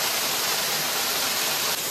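Steady, dense rush of falling water from a waterfall on a hiking trail along the Appalachian Trail, a continuous close broadband roar with no talk over it.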